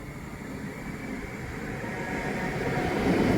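An Avanti West Coast train at Milton Keynes station gives a steady, broad rail rumble that swells gradually louder, with no talk over it.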